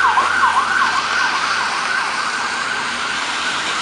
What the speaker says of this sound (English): It's rare to get an ambulance stuck in traffic like that responding